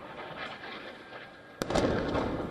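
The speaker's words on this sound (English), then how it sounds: "This is the moment that the explosion was captured live on air as a reporter covered the ground situation in Syria." An air strike explosion in Damascus during live coverage of the Syria conflict, a sudden sharp blast followed by a rumbling roar over steady background noise.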